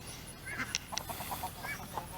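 Several ducks quack and honk in short, irregular bursts close by, over a low background hum.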